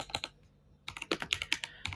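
Typing on a computer keyboard: a quick tap pair, a short pause, then a brisk run of about ten close, crisp keystrokes.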